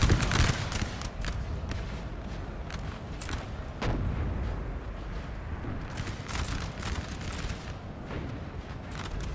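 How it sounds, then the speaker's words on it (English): Artillery cannons firing in the Napoleon Total War video game during a large French-versus-Russian battle, with repeated booming shots over a continuous dense battle din. "Artillery getting charged finally."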